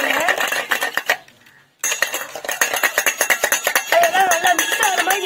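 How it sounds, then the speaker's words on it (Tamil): A spoon stirs homemade mayonnaise ingredients in a bowl, producing a rapid, steady run of close clinking and scraping strokes, with a short pause before the brisk stirring resumes and continues to the end. "அதெல்லாம் நல்லா மிக்ஸ் ஆகிற மாதிரி நீங்கள் கிண்டிக்கணும்."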